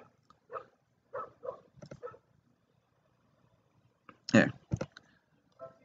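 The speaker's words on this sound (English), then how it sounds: "Did you guys see that? That refrigerator's barking." Short bursts of cartoonish barking from a refrigerator in the video game Suburbia 2, a few quick yaps spaced apart, with one louder cluster near the end amid quiet gaps.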